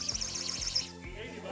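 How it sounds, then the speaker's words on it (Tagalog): A toy bird whistle noisemaker used for New Year celebrations gives a shrill, warbling trill over about a second and a half, loud and close, with voices around it. "Bird whistle na hawak ni Adjo."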